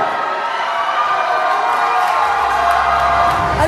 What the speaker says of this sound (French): J'ai super mal à la tête avec les cris des gens.